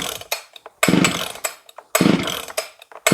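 A Shindaiwa 757 chainsaw, freshly fueled with a rebuilt carburetor, is pulled over to start: repeated bursts of engine noise come in uneven pulls, loud and close, with brief gaps between attempts.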